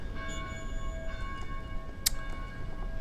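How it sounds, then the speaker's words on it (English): Church bells ring from a belfry in the Dead Island video game, with sustained metallic tones layered over a low, rumbling game ambience and one sharp bright strike partway through. "Please help us silence these bells."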